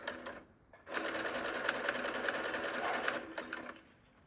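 A sewing machine stitches bias binding onto a cotton dish towel, a steady close whirring run of about two and a half seconds after a brief start, stopping near the end.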